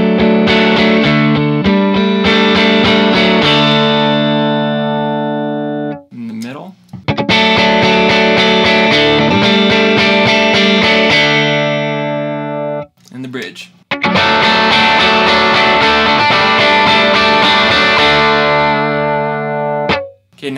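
A Nystrum Labella electric guitar played through its TV Jones neck pickup rings out in loud, distorted sustained chords, with two brief breaks where the strings are re-struck.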